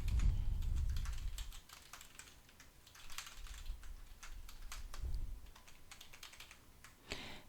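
Fingers tap away at a computer keyboard in quick, uneven bursts of soft clicks, close and quiet, with a few louder thumps and short pauses between runs.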